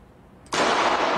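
In a Thai TV drama scene, after a quiet moment, a sudden loud burst of gunfire erupts and sustains as a dense, harsh roar.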